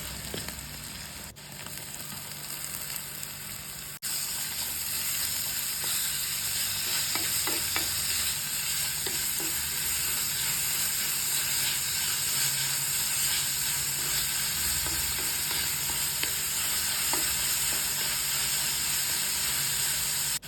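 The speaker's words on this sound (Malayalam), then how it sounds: "അതിലേക്ക് നമ്മൾ സവോള അരിഞ്ഞത് ചേർത്ത് കൊടുക്കുക എന്നിട്ട് നന്നായിട്ടൊന്ന് വഴറ്റുക" Chopped onion sizzles in hot oil in a pan and gets stirred now and then, with steady frying hiss throughout and occasional scraping strokes. This is during a crab roast preparation.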